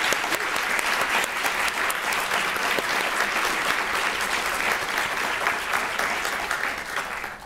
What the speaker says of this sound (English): So a big round of applause for all of those individuals.